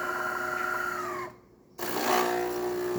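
A DeLonghi espresso machine runs its automatic rinse cycle with a steady mechanical hum and whir. The sound breaks for a brief quiet pause, then resumes with a hissing, watery rush, and no one speaks.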